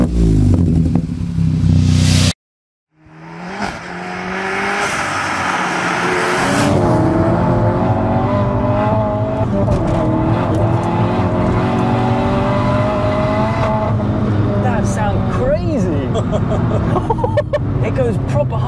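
A Stage 3 Seat Ibiza Cupra with a 370 bhp 1.8 engine revs hard while driving, climbing loud and close to a high-pitched wail, with voices talking over the engine noise.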